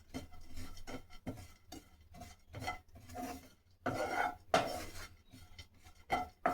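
Dry fruits tumbling and scraping as they are dry-roasted without ghee in a pan, a repeated rasping stir that comes in short bursts, louder toward the middle, with no talking.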